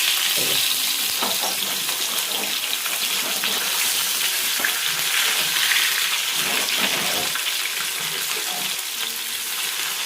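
Fish pieces coated in rice flour fry in hot oil over a low flame, giving a steady, dense crackling sizzle that runs without a break, with small pops and bubbling throughout and no voices.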